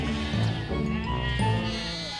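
A goat bleats repeatedly, about three wavering, drawn-out calls in close succession, near and fairly loud over a steady background.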